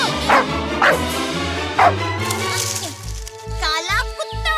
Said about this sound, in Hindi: काला कुत्ता